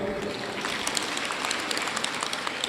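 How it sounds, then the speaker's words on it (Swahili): Applause from attendees at a church self-help group's annual general meeting, a continuous patter of many hands clapping at moderate volume, fairly even throughout the short burst. "Tupige makofi."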